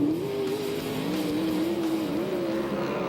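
USAC/CRA sprint cars accelerating on a green flag restart at Perris, California, a continuous loud engine roar with a wavering, rising pitch from a pack of race cars on a dirt track.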